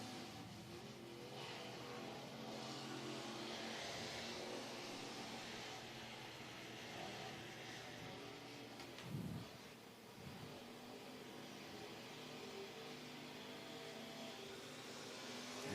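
Street stock race cars run laps at Whynot Motorsports Park in Meridian, Mississippi, their engines a faint, distant, steady drone across the track, with one brief louder swell partway through.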